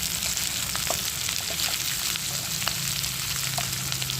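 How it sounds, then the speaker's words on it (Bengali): Capsicum and chopped green and red chillies fry in a pan for chilli chicken, giving a continuous, fairly loud hiss with small pops and spatters throughout. "ক্যাপসিকামগুলো একটু ভাজা ভাজা হবে"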